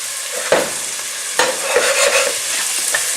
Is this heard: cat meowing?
no